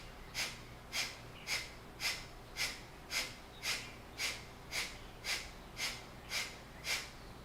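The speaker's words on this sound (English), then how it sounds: "let's do some Kapalabhati breath. Forceful exhales through the spine." Kapalabhati yoga breathing during a classical yoga class, heard as a steady series of twelve sharp, forceful nasal exhales, evenly spaced about every 0.6 seconds, close and fairly quiet with no talking.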